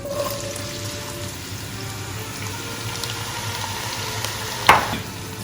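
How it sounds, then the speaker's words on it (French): Carrots and onions sauté in a pot for beef bourguignon with a continuous, even sizzle close by. One sharp metallic clink stands out near the end. "Maintenant, je dois les sauter pour 3 minutes."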